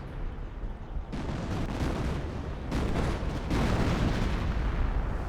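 A creeping artillery barrage rumbles in the World War II strategy game Company of Heroes, with dense, overlapping booms and a heavy low roll that grows louder in waves across several seconds.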